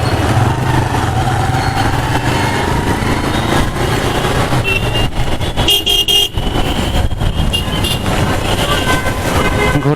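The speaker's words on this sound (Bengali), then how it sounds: "আজকে রাস্তায় প্রচুর জ্যাম। শনিবার সরকারি ছুটির দিন, তাও রাস্তায় অনেক জ্যাম।" Heavy traffic jam on a Dhaka street on a Saturday public holiday, a dense continuous roar of engines and rumbling vehicles with car horns sounding through it, loud and close.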